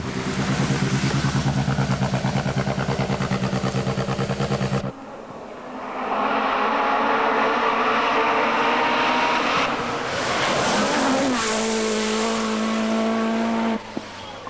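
A 1986 Peugeot rally car at speed on a New Zealand stage, engine roaring at high revs with abrupt gear changes, a brief lull, then hard acceleration again, loud and close.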